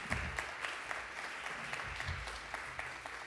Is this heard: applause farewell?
yes